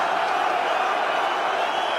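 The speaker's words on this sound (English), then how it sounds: "world record crowd roaring him on" A world-record crowd roars at a Premier League darts match between Wes Newton and Phil Taylor, a dense, steady wall of cheering that fills the whole moment without a break.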